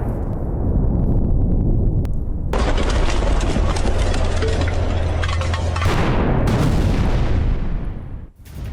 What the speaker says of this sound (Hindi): गोलीबारी और धमाके से दहल गया पूरा इलाका।